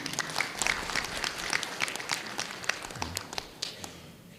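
Steady applause from a seated audience at an academic graduation ceremony, with individual claps crackling throughout the crowd, moderately loud and sustained without pause.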